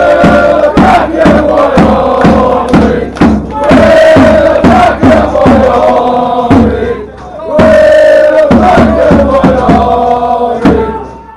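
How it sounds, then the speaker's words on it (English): A loud football crowd behind the goal at a Southern League Division 1 match chants and roars in rhythmic bursts, voices massed together with thumping beats, continuing with a brief dip before surging again. "there was a big old following behind the goal today and they were making a bit of a noise"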